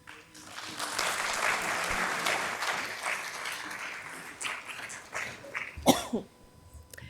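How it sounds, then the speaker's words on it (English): Several sharp coughs and throat-clearing bursts from someone recovering from an illness rise from a murmuring room, the loudest cough near the end, with scattered background noise. "Pardon my coughing, I'm getting over an illness."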